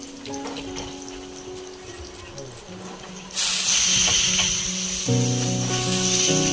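A sudden loud hiss as something hits hot oil, then a steady sizzling that continues, with faint talking and clatter before it.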